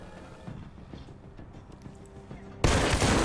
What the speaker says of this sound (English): I forgot about the gunshots.